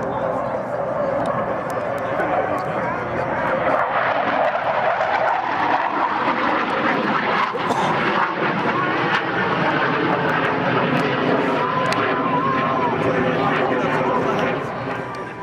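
A McDonnell Douglas F-4 Phantom jet roars overhead at an air force base airshow, a loud sustained engine rumble and whine filling the whole stretch while an announcer talks over the public address.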